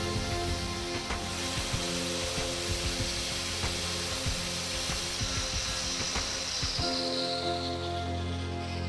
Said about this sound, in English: Then the material is sanded down 1 mm over a width of barely 20 mm at both ends.